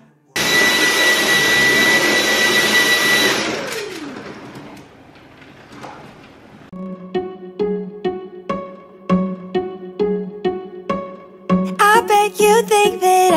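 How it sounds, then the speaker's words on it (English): A household vacuum cleaner roars loudly on floors for a few seconds, then winds down to a fading whine, followed by a run of sharp rhythmic knocks and clatters. "I just wanted to vacuum these floors up"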